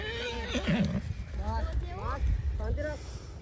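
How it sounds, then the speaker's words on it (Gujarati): A horse at a wedding neighs and whinnies repeatedly, its hooves clip-clopping beneath, with people talking and calling out close by throughout. "જો ઘોડો રીમ રીમ આવી ગયો છે હવે."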